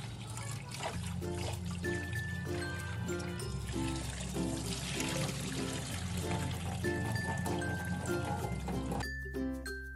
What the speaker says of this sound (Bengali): এ পর্যায়ে আমরা মাছগুলো খুব সুন্দর করে ধুয়ে নিব।